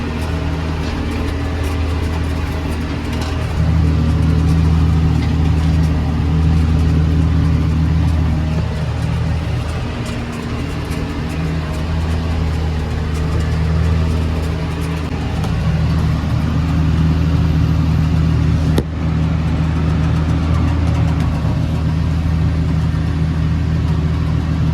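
A tractor engine runs steadily in a Missouri hay field during mowing and raking, a loud continuous low drone close by that holds throughout with slight changes in load.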